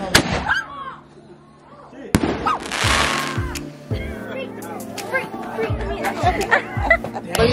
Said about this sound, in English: Every time we score, we light a firework.